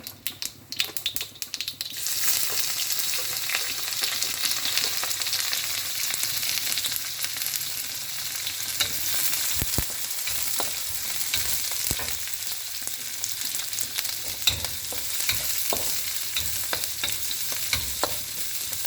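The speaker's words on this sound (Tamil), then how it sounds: "வெங்காயம்லாம் வதங்கிடுச்சு" Shallots, garlic, ginger and dried chilli sauté in a pan with a little mustard seed. A few quick clicks open, then a loud, continuous sizzle holds, with soft spatula stirring throughout.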